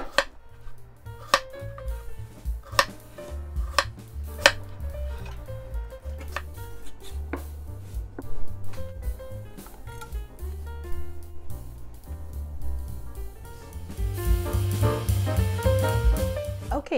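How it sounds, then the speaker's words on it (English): Knife slicing a cantaloupe into slices on a cutting board, a series of quiet, irregular thuds and cuts spread across the clip, up close, with no talking. "Cut into slices all in one direction."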